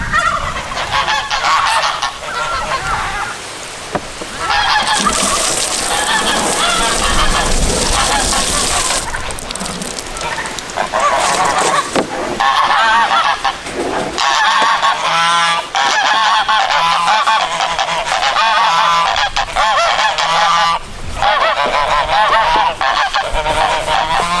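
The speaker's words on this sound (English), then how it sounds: "The geese really run over here like, no, don't dump it." Geese honk loudly and continuously, a dense noisy flock close by, with some faint speech mixed in among the calls.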